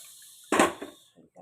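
A brief splash of water poured into a cooking pot for boiling, one quick burst that trails off, with faint kitchen clatter afterward.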